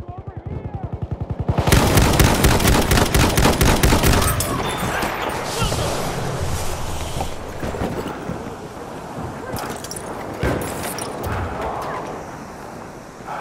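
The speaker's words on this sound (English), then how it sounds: "Enemy machine gun!" Machine gun fire in the Battlefield 1 map Achi Baba during team deathmatch, a loud rapid burst of shots followed by ongoing distant gunfire, wind and battle noise.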